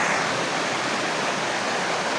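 A river at the edge of a plot of land rushes past in a steady, broadband wash, loud and unbroken with no voices over it.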